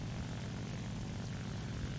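Propeller aircraft engine in the game War Thunder, a steady loud droning roar with no breaks, heard alone.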